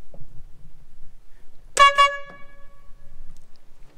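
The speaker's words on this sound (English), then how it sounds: "air horn still works" The air horn on an all-terrain wheel loader forklift gives one short, loud, brassy blast of under a second, close by, with faint mechanical rattling before and after.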